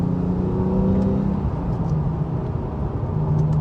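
A Porsche 911 991.1 fitted with an Akrapovic titanium slip-on exhaust gives a loud, continuous, throaty engine rumble close by, with slight rises in pitch. No voices are heard.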